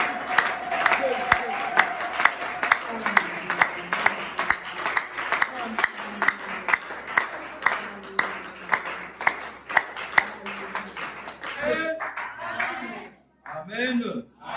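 A church congregation claps and cheers together in sustained, rhythmic applause with crowd voices, fading into scattered chatter near the end.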